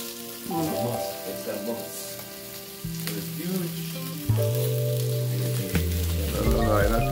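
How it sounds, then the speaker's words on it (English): Steady sizzling of fish frying in a pan, with a background of music-like tones and shifting clatter throughout. "I think you know the fish frying."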